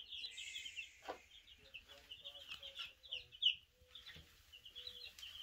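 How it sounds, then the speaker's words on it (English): A crowd of about fifty baby broiler chicks peeps steadily in a brooder, with many high, overlapping chirps forming a busy, continuous chatter close by, plus a few soft thumps of movement. "We got a bunch of baby chicks."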